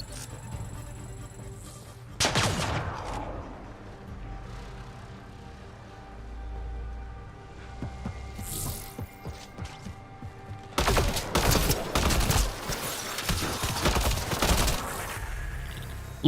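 Gunfire in the sci-fi shooter Mass Effect Andromeda: scattered shots and distant thumps give way to a dense, loud stretch of rapid overlapping bursts near the end, with game sound effects throughout.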